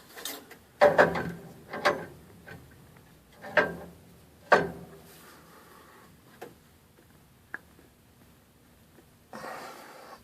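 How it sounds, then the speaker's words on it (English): Inner part of a plumbing valve being screwed back on by hand, giving a few separate clicks and scraping clanks spread out in time, close and moderately loud, with a brief rustle near the end. "That's the inner part of the valve I'm screwing back on"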